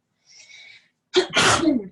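A single loud sneeze up close, a soft breathy inhale followed by a sharp explosive burst.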